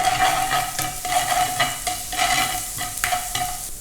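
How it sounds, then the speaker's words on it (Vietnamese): Minced shallots sizzle and crackle in hot oil in a pan while being stir-fried for Mì Quảng with shrimp, a steady loud fry broken by repeated scraping stirs. "Mình cho tí xíu hành băm vào đây."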